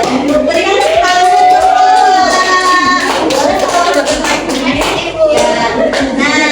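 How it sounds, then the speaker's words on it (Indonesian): A primary school class claps together in a classroom, brisk hand claps under overlapping children's voices and chatter. "Berikan tepuk tangan."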